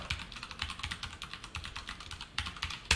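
Quick, steady keystrokes patter on a computer keyboard close by as a post is typed, with irregular clicks and a few sharper taps, and no voices.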